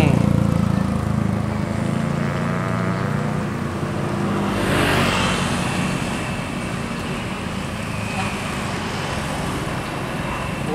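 A bus passes on a road during the post-holiday return traffic, its engine and tyre roar swelling to a peak midway and then fading, with steady traffic noise throughout and no speech.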